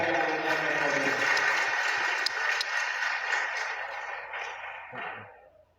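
Audience applause during a Ramadan gathering, a warm burst of group clapping that holds for a few seconds and then fades away, with no talking over it.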